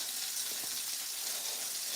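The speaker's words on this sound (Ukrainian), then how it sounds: "І воно буде смажитись" Battered pollock fillets frying in a pan, a steady soft hiss and crackle of hot oil throughout, faint and even with no talking.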